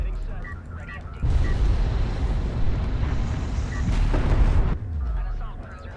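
A cruise missile strikes a base runner in the real-time strategy game Homeworld: Deserts of Kharak. A loud, rumbling blast bursts in suddenly and roars for several seconds before cutting off, with voices talking underneath.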